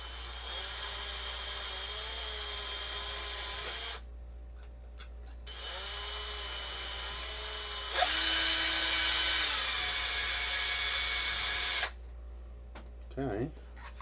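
A small 2 mm drill bit bores into a part in three separate bursts of a high whining motor, each a few seconds long with short pauses between, close and moderately loud.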